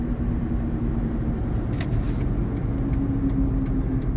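A car rolls into a parking spot, its engine a steady mid-pitched hum and rumble up close, with faint road noise and a few light clicks, no talk.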